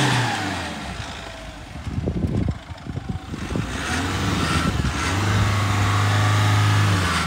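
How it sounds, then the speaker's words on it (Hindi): A rear-wheel-drive vehicle stuck in mud revs its engine, and the rear wheels spin with a loud, close, uneven roar that swells, dips and picks up again. A steady low engine drone follows. "देखो ये रियर व्हील ड्राइव है भाई, तो इसके पिछले पहिए घूमते हैं।"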